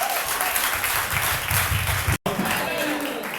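A church congregation claps and cheers in sustained, roomy applause, with a momentary dropout near the end before the clapping resumes.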